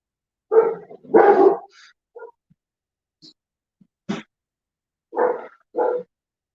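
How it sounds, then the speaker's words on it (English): Dogs bark in a quiet outdoor setting during a night hunt, giving a few separate barks at uneven intervals, each clear and fairly close against near silence. "Can you hear the dogs barking?"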